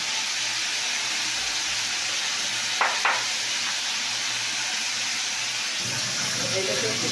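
Vegetables and spices fry with cumin and chilli in a pan, a constant broad sizzle with a low hum underneath and a couple of brief clinks partway through.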